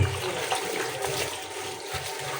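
Water running and splashing into a container to soak food: a continuous close rush with gurgling, alone and steady throughout.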